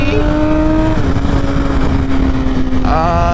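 A Yamaha R6 sport motorcycle is being ridden, its engine a loud, continuous high drone with rushing wind noise, the pitch dipping and then climbing near the end.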